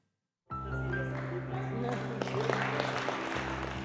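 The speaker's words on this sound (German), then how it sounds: "Es ist der Applaus" Applause at a culture award ceremony, where a dance teacher is honoured for her cultural work, starts abruptly after a brief silence and continues as a steady, fairly dense round of clapping.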